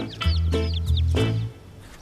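Chickens clucking close by in a short burst of several clucks and squawks, fairly loud, with no talking.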